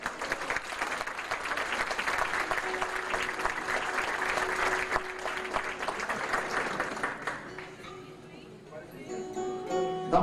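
An audience bursts into sustained applause for a band, dense clapping that fills most of the moment before fading, with a voice speaking over it and music starting at the end.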